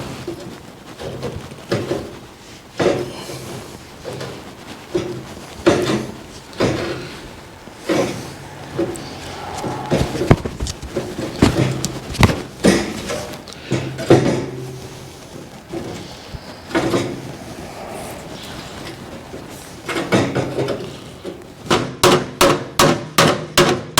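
Sheet metal inner fender apron for a 1962 Mercury Comet hammered against a dolly, a steady series of loud, ringing metallic blows with short pauses, ending in a fast rapid burst of strikes.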